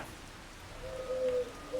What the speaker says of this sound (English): we might as well take advantage of the rain